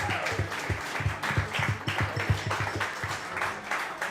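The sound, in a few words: applause for the parents and guardians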